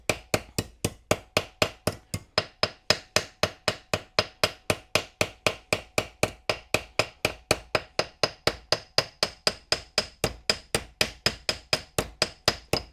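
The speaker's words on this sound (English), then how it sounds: "I'm aiming along this edge here with my hammer all the time" Steady, evenly spaced hammer blows on the metal rear capping of a 1/6 scale Armortek Series 1 Land Rover model, dozens of sharp close ringing taps at a brisk regular rhythm with no talking.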